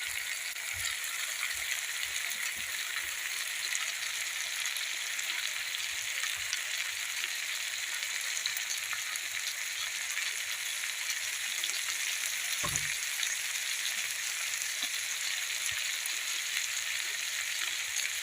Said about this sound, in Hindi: इस पालक को हम तब तक इसमें भून लेंगे इस मसाले में